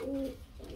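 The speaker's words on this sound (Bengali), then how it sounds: "আমরা এখানে কিন্তু খুবই সুন্দর আরেক জোড়া কবুতর দেখতে পাচ্ছি" Pigeons kept for sale give a brief, soft low coo at close range, a single short rolling call against faint background noise.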